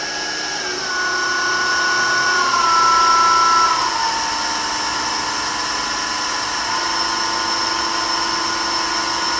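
A wood lathe hums with a steady motor whine while turning a walking cane, its pitch stepping down as the speed is dialed back, then holding a constant tone.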